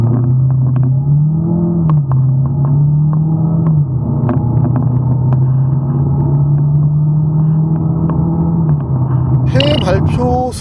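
A Chevrolet Malibu with a turbocharged engine accelerates hard, its engine drone holding steady and loud with brief dips at gear changes as it pulls.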